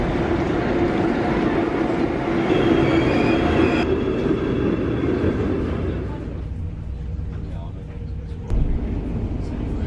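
Rail travel toward Amsterdam: a steady loud rumble of a moving train with wheel and track noise, easing and quieting partway through, with a brief clunk near the end.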